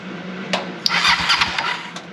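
An old Honda Shadow motorcycle engine cranks over, giving a close, steady whirring churn with a few rhythmic compression pulses and sharp clicks across about two seconds, with no voices present.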